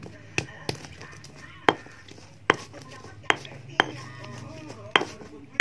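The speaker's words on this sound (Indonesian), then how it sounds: "Ditumbuk seperti ini terlebih dahulu boleh." Galangal is pounded in a stone mortar with a pestle while making Sundanese beef gepuk, giving about eight sharp, close knocking thuds at an uneven, unhurried pace over a quiet background.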